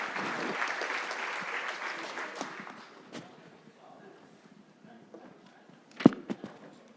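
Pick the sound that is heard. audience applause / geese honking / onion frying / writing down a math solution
audience applause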